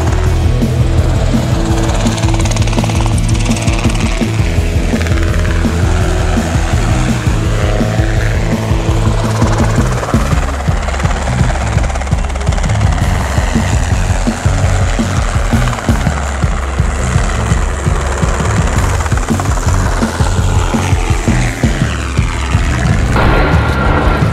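An aircraft flies low over cattle being mustered in the Australian outback, its steady engine and propeller drone loud and continuous throughout, with no voices.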